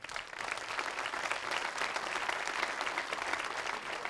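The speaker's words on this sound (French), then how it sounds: "on a vraiment envie d'applaudir très très fort Thierry Michel" A cinema audience at a Liège film premiere applauds director Thierry Michel, a steady, fairly distant wash of many hands clapping that holds without pause.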